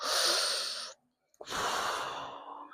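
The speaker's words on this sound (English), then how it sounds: "breathe in 3 times through the mouth, 3 times through the nose." Two deep, loud breaths sound close to the microphone during a breathing exercise: a long airy inhale, a brief silence, then another long rushing breath, with no speech.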